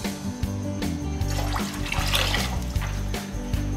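Water poured into a pot of white vinegar to make a pickled beetroot brine, a steady splashing pour lasting several seconds over a loud low hum.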